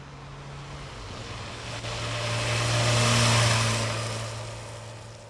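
A sports motorcycle engine revs up and back down once, swelling to a loud peak mid-way then fading, with a steady low hum beneath.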